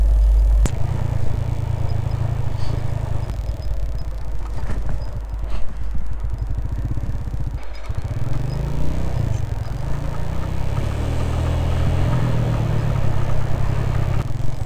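A motorbike engine held in first gear drones loud and close on a steep downhill mountain road in Hushey Valley, Pakistan, a continuous labouring hum that wavers in pitch from start to end.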